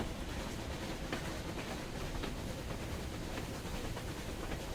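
Steady rumbling roar of a train rolling over broken, debris-strewn tracks in the game Metro Exodus, a continuous even drone with faint rattles, no talk.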